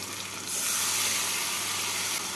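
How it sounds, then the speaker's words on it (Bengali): Water is splashed into a spice mixture already frying with onions in a pan for a Bengali muro alur ghonto, a soft watery pour rising into steady hissing sizzle for a couple of seconds, close and alone. "মশলা বাটিটা দিয়ে অল্প জল দিয়ে দেবো।"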